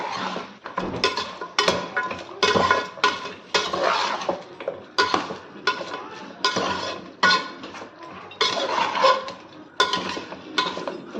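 Mutton tossed with salt and turmeric in a metal pot, a steady run of loud, close scraping and clinking strokes from a spoon against the pot, repeating in quick bursts with no talking.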